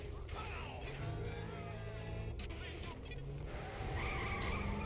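A wheel-less car skids along on its e-brake with nitrous engaged in Saints Row: The Third, giving a continuous loud scraping, grinding roar with squealing tones and engine noise that runs throughout, while someone talks over it.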